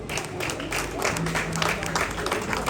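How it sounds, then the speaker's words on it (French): Schoolchildren at an elementary school awards ceremony applaud themselves, a dense, steady wash of clapping lasting the whole moment, with a faint voice murmuring underneath. "je voudrais que vous applaudissiez vous-même très très très fort."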